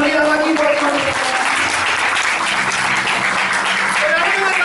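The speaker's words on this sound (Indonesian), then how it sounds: "Kasih tepuk tangan yang meriah buat Tuhan" A church congregation claps and applauds for God during a service, a loud, sustained wash of clapping with a voice speaking over it.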